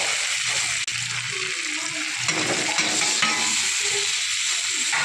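Chopped tomato dropped into hot oil with ginger in a pan, giving a loud continuous sizzle with spatula stirring and scraping, close up, plus one sharp clack early on.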